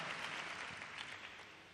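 Congregation applause inside a church, a faint, distant wash of many hands clapping evenly for about two seconds, with no voices above it.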